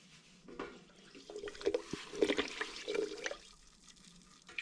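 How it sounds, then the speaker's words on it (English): Brewing sugar pours from its bag into a cider mixture of apple juice and IRN-BRU, a soft granular hiss and patter with a few knocks, close and fairly quiet. "And I'm simply going to pour this into the mixture."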